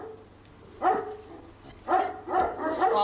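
A Turkmen Alabay dog barks close by, giving a few deep, loud barks in quick succession after a short pause, with faint background hum and no talk.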